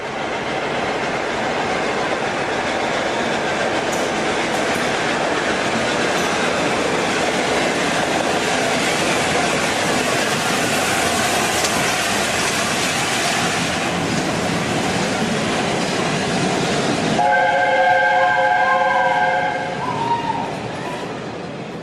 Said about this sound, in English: awaiting the arrival of 6009, an A4 class Pacific locomotive named Union of South Africa